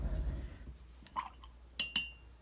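A watercolour paintbrush dips and swishes in a water jar, a low sloshing at first, then a few quiet separate taps and clinks of the brush against glass, close and sparse, with no talk.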